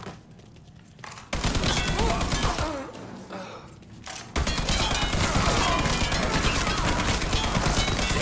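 Gunfire in Mafia 3 gameplay: a quieter opening gives way to loud, dense shooting, with a short lull in the middle, then heavy continuous firing that lasts to the end.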